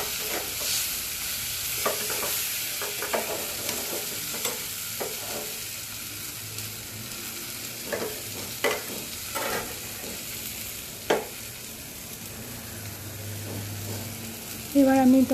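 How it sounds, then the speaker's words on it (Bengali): Boiled dal is stirred into a spiced egg tarka in a pan: a low background sizzle runs under repeated scraping and knocking strokes of a spoon against the pan, spaced irregularly and close by, with a brief sharper clatter at the end. "এবার আরও একটু ভালো করে নাড়াতে হবে, ভালো করে নাড়িয়ে চাড়িয়ে"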